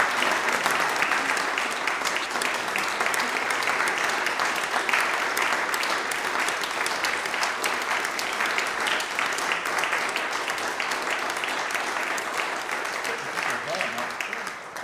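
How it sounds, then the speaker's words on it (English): A book launch audience gives a long, steady round of applause, dense and continuous for the whole stretch, with faint voices underneath. "Let's give him a round of applause."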